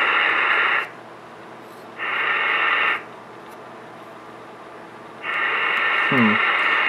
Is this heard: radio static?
yes